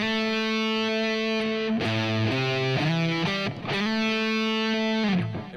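Distorted electric guitar in a rock lesson, playing a slide exercise with notes gliding smoothly between pitches in a steady repeating phrase, loud and close with sustained overdriven tone and no voices.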